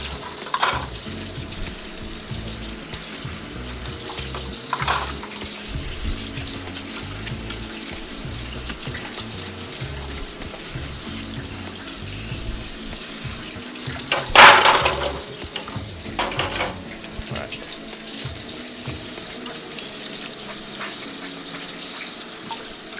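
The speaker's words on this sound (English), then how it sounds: "Yeah, your favorite sound. Yeah, the sizzling. That's my favorite sound too." Steady sizzling and searing of beef in a hot pan for crispy Mongolian beef, with occasional louder crackles and clatters, continuous throughout with no talking.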